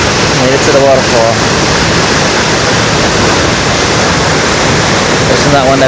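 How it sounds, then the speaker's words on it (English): Loud, steady roar of a waterfall in Costa Rica, with cold mist in the air, filling the whole clip as a dense, close rushing wash; faint voices come and go beneath it. "Made it to the waterfall."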